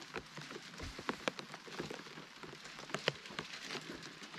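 Oil spatters and crackles on a hot plancha griddle at an outdoor bivouac barbecue. The sound is a faint, rain-like patter of many tiny pops, with a few sharper snaps.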